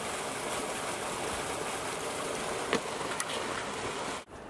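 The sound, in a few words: running water of a magical waterfall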